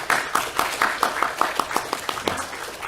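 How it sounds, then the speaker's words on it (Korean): A Korean church congregation in Hawaii claps to welcome visiting elders during Sunday worship, a few hands beating a fairly regular, distinct rhythm of about a dozen claps before tapering off. "우리 박수로 환영하겠습니다"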